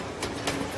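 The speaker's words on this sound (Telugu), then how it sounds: "ట్రైన్ వచ్చినట్టుంది" A train arriving in a Telugu comedy film scene gives a brief, fairly quiet rumbling rattle with two sharp hissing bursts, and no voices are heard.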